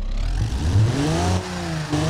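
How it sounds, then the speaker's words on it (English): A lawnmower engine in a driving-simulation video game revs up and down with a loud, steady mid-pitched drone, its pitch rising and falling in smooth sweeps for about two seconds. "if you rev your lawnmower,"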